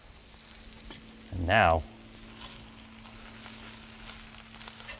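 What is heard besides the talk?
breakfast burrito filling sizzling on a grill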